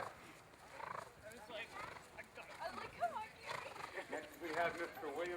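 A pair of horses pulls a shooting brake carriage at an outdoor point-to-point race meet, hooves clopping and horses neighing under an announcer's voice.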